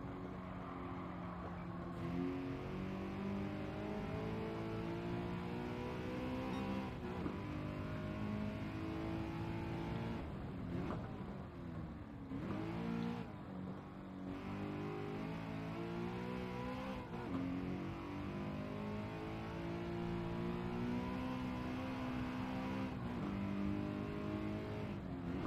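A Renault Megane RS Trophy engine in the racing game Gran Turismo 7 revs steadily and loudly throughout, its pitch rising and falling through gear changes with brief dips between shifts and faint tire noise.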